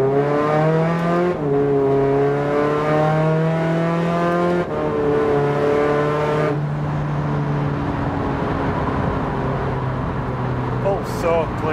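A 386 bhp VW Caddy van with a 2.0 TDI common-rail engine, DSG gearbox and 4-Motion drive pulls hard at full throttle in second gear. The engine note rises steadily across repeated shifts, loud and close, with a voice talking over it.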